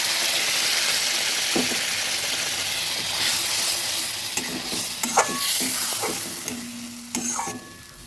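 Loud, close sizzling and stirring of spices and tomato in a pan for a Chapila fish curry as hot water goes in, with scattered clinks of a utensil against the pan and a rising hiss.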